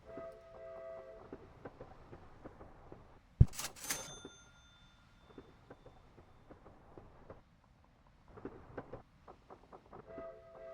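A train in the Lazy Train Game clatters along in light rhythmic bursts, with a sudden loud metallic clank and ringing chime midway before the quieter clicking resumes.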